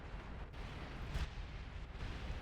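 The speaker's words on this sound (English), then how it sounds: "now their cannon is firing" Cannon fire in the strategy game Beyond All Reason, with deep booming blasts over a continuous low rumble, one heavier burst standing out near the middle.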